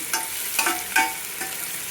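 Ginger garlic paste sizzles in a pan as a spoon stirs it, three or four sharp scrapes and clinks over a steady frying hiss, close and moderately loud.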